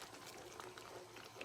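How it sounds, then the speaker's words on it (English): Pizza sauce simmers on low heat in a pan, giving a soft, steady bubbling with faint pops, quiet and close, with no one talking. "we're going to have a look at our pizza sauce, and it's bubbling away"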